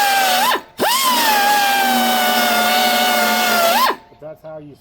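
A power tool grinds off a spot weld on a car body, a sustained high whine that cuts out briefly, restarts and runs about three seconds before winding down, followed by a few short bursts.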